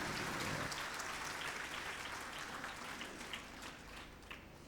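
Audience applause in a lecture hall, fairly quiet and dense, many hands patting continuously and gradually thinning toward the end.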